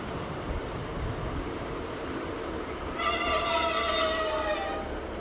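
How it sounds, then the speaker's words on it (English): Passenger train departing Devonport Station on the Tamar Valley Line near Plymouth: a low rolling rumble swells as wheels begin a loud, sustained high squeal partway through, fading slightly toward the end. "As the train departs from Devonport Station"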